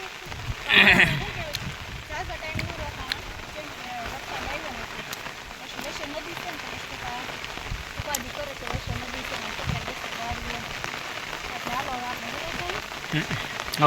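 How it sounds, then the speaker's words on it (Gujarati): Rain falls steadily on a farm, a continuous close patter on surfaces throughout, with a brief animal bleat near the start and people talking intermittently over it. "આપણે વાડી આવ્યા ને વરસાદ આવ્યો"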